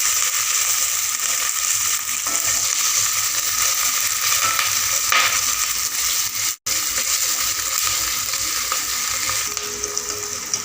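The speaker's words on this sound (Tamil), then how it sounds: "நல்லா ப்ரௌன் கலரில் வதக்கலாங்க." Fifty grams of chopped small onions fry until brown in a chicken uppu kari pan, giving a steady, dense sizzle with a few scraping stirs and a brief cut near the middle.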